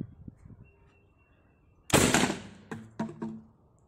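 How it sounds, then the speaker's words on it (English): A homemade soda bottle launcher fires with one sudden loud burst after a quiet stretch, followed by a few sharp pops and rattles that fade quickly. "now we just have to put the soda bottle inside the launcher and press the trigger"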